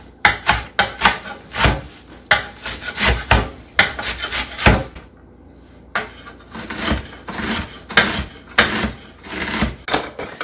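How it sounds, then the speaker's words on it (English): A knife chops a big bunch of parsley on a cutting board in quick close knocking strokes, pausing briefly midway before starting again, loud and with no talking. "I'm going to get this parsley chopped up so it's just ready to use and throw into stuff"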